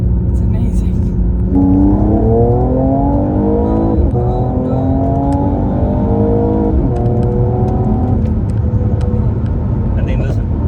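A Mercedes-AMG E53 Coupé in Sport Plus revs while held stationary, with several rising and falling engine sweeps over a constant low rumble heard from inside the cabin, and someone talking over it.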